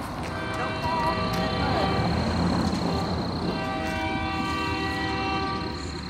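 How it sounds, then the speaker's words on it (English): A Kiamichi Railroad train in Idabel, Oklahoma sounds a loud, sustained multi-chime horn across the whole stretch, with the rumble of the passing train underneath. "They done the rail fan honk."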